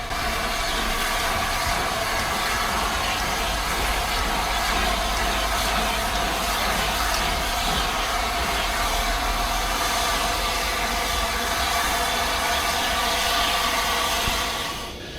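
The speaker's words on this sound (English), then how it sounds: "my train was here, on time believe it or not" A train arrives at a UK station, rolling along loudly and steadily, a continuous rumble and rail noise filling the whole stretch with no voices.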